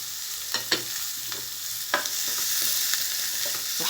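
Two chopped onions sauté in a couple of spoons of hot oil in a pan for vegetable burgers, a bright continuous sizzle with occasional spoon taps and scrapes, close and uninterrupted by speech.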